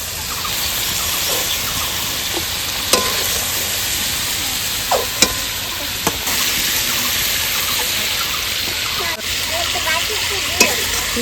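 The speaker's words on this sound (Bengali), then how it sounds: "মাছগুলো একটু হালকা ভেজে নিতে হবে।" Prawns fry in hot oil in a pan with a loud, constant sizzle, punctuated by a few sharp pops and clicks of stirring.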